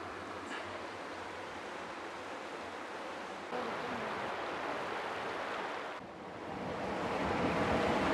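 Flowing water where Harwood Beck meets the River Tees in Teesdale, heard outdoors as a steady broadband rush mixed with wind buffeting the microphone, continuous and fairly loud throughout.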